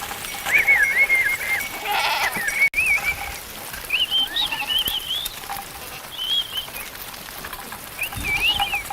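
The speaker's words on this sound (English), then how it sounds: "Armed with their books on one hand and a stick in the other, they lead the goats to grazing grounds." A herd of goats being led out to grazing grounds bleats repeatedly, several animals calling near and farther off in a loose, overlapping rhythm over an open outdoor background.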